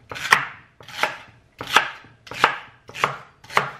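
Knife chopping vegetables such as spinach and celery on a board for a shake, six evenly spaced heavy chops, close and crisp with no talk.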